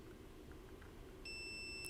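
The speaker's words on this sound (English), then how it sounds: "Some continuity beeps." A multimeter on continuity test gives one steady electronic beep near the end, checking solder connections on a DIY DMX LED driver board, heard alone over low background hiss.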